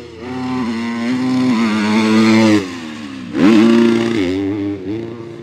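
A Kawasaki motocross bike on a timed lap at the Ernée track screams loud and close, rising and falling through gear changes. The engine drops away briefly midway and then surges back hard with high-revving acceleration.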